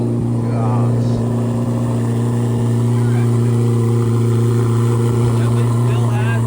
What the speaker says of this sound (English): It still has that flat plane crank sound.